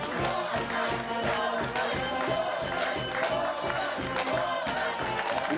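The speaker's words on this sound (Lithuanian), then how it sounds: "Plojimai jam." A crowd at a fishermen's festival claps and cheers loudly for a competing team, with dense steady applause, shouts and a rhythmic low thumping underneath throughout.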